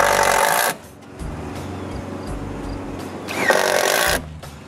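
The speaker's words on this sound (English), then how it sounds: "So now I can start to screw them in place." Power screwdriver driving screws through metal roofing panels into a new shop roof, two loud whirring bursts at the start and near the end with a steady lower hum between.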